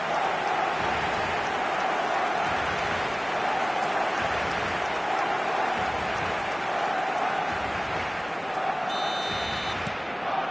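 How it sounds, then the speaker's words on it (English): A stadium crowd in eFootball 2026 roars after a goal. The dense, steady wash of cheering and noise holds loud and unbroken for about ten seconds. "the crowd level has gone up a notch or 10"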